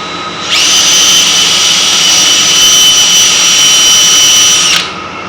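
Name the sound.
power drill drilling wood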